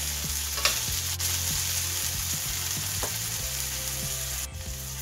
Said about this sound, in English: Stir fry them together.